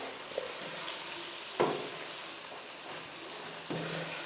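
Eggs fry in a pan with cumin, giving a low steady sizzle broken by a few sharp clicks and taps of utensils, faint and close, with no talk.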